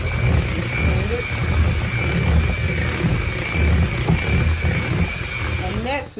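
A blender whirs through a sweet potato cheesecake mixture, a loud continuous motor roar with churning, rumbling texture that lasts the whole stretch before easing off at the end.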